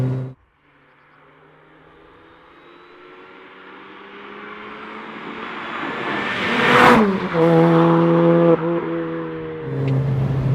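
A lightweight modified Mini R53 accelerates hard, its engine note rising steadily in pitch and loudness, peaking in a loud rush, then dropping briefly as it shifts before revving on again.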